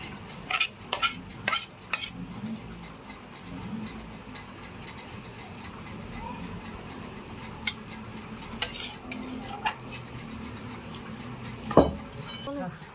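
Spoon scraping and clinking against a dish while chicken chotpoti is served out, with a few sharp metallic taps early and late over soft kitchen background noise.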